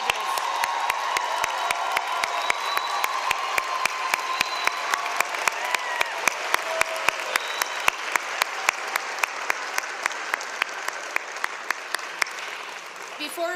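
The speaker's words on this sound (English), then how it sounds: "If you can all give one more round of applause" Sustained applause from a commencement audience honoring law school graduates, dense steady clapping with scattered sharp claps standing out near, filling the whole stretch with faint crowd murmur beneath.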